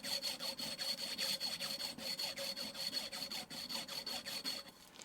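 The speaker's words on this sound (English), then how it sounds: "And then I just take a little strip of sandpaper." A sewing machine needle being sanded with a small strip of 220-grit sandpaper, quick rhythmic scratchy rasping strokes repeating evenly and close, soft and steady throughout.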